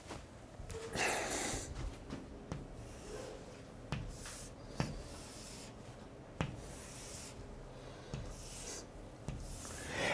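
Marker or chalk drawing a pyramid on a classroom board, with repeated short scraping strokes and sharp taps separated by brief pauses, close and fairly quiet.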